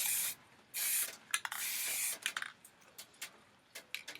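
A spray paint can sprays in a few long hissing bursts, then a run of short quick puffs, close by and fairly quiet.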